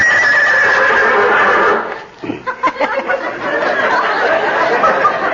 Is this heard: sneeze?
no